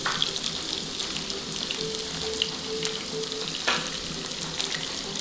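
Chopped onion and green chillies frying in oil for a bitter gourd fry, a steady, close crackling sizzle running throughout with occasional sharper pops and stirring clicks.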